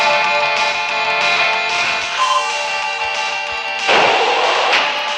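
Shotgun blasts in the Freedoom first-person shooter game, a couple of booming, distorted shots over a dense bed of game music and effects, loud and close.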